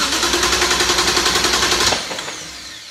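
A BMW N54 engine cranks on a start attempt, its starter churning in a fast, even rhythm for about two seconds before cutting off and leaving a fading ring, loud and close with no talk.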